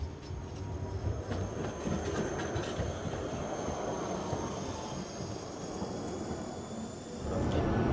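A Silesian tram rolls along its tracks with a steady, loud rumble of wheels on rail, broadband and continuous throughout, with faint high squeal tones above and no talking.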